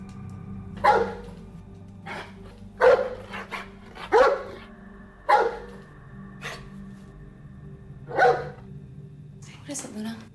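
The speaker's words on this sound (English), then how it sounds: "All of a sudden, she started barking." A pet dog named Luna barks sharply in a home at night, six loud separate barks spaced a second or two apart, with a low steady hum underneath.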